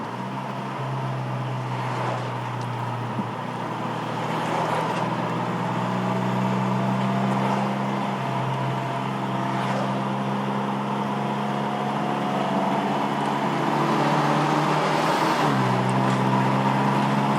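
A Mitsubishi Evolution X FQ-300 in sport mode accelerates hard through the gears, the engine note climbing steadily, dropping at each shift and rising again, loud and continuous from inside the cabin.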